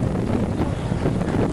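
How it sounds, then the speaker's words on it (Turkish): Steady wind buffeting a microphone, a loud continuous low rumble with gusty swells and no voices. "işte bu rüzgarı özlemiştik"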